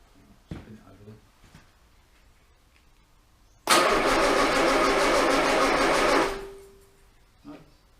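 Armstrong Siddeley Special engine cranking over for about two and a half seconds in one loud, steady churning burst, fading as it stops, with brief knocks and faint talk before and after.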